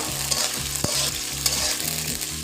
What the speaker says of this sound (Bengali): এখন দিয়ে দিব এখানে দেখো পেঁয়াজ, কাঁচামরিচ আর হচ্ছে রসুন। এটা ভেজে নিব বন্ধুরা।